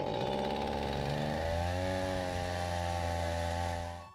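Stihl chainsaw held at full throttle while bogging down, its engine note sagging and dropping in pitch into a strained, uneven drone that stays loud and close throughout.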